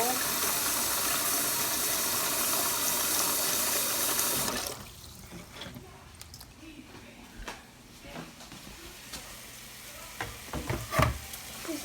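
A loud hiss of water or sizzling runs for a few seconds, then stops, leaving softer scraping and stirring sounds as basmati rice is stirred in olive oil in a pot.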